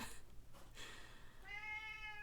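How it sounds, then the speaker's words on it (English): A cat meows faintly, a drawn-out tonal cry rising near the end over a quiet, hissy room background, with softer breathy sounds before it and no talking. "It's my cat."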